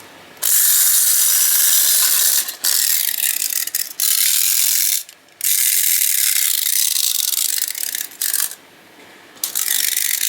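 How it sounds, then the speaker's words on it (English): A tinplate toy car being wound up by its key, loud close ratcheting clicks running in bursts separated by short pauses, with no voices. "when you wind it up, it sounds just like a VW"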